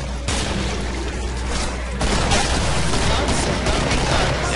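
Gunfire in the video game Killing Floor, a loud, continuous roar of rapid shots that swells after a short gap, dense and unbroken to the end.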